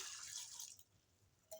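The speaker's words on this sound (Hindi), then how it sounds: "हस्बे ज़रूरत हम इसमें पानी ऐड करेंगे।" Water runs into a pot of chickpeas for under a second as a steady, close splashing hiss, then cuts off into quiet before a brief knock at the end.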